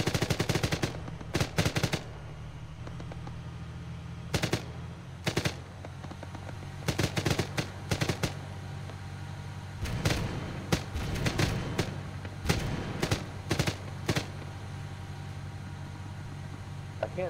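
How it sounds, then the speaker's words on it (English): Anti-aircraft gun firing in ARMA 3, several short bursts of rapid heavy shots that sound loud and sharp, then denser volleys, with faint radio chatter between them. "Is that an anti-aircraft gun?"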